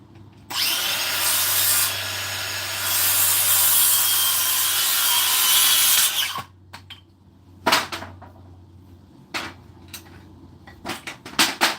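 Hand saw cutting through wood, a steady close rasping stroke for about six seconds, then a few sharp knocks and clatters of the board and tool in a quiet workshop.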